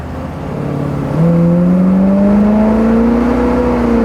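A 1969 Ford Mustang convertible's engine revs up loudly, its pitch climbing steadily and holding high as it accelerates, with no talking.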